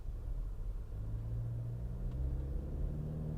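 A modified stage 2 Toyota Fortuner's engine while driving, a steady low rumble heard from inside the car at light throttle, even and fairly quiet with no talk.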